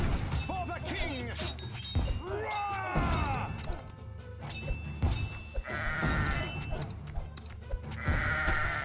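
Sheep bleat loudly in the Kingdom Rush tower-defense game, the cries rising over crashing battle effects, clattering hits and shouted game voices.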